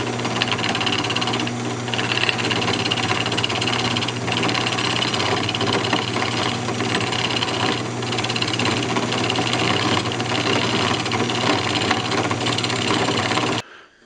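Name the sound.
wood lathe turning ornament with a roughing gouge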